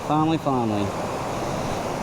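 Waterfall rushing steadily under a remote North Carolina brook-trout stream's falls, a constant broadband wash heard nearby while a voice hums or talks briefly over the first second.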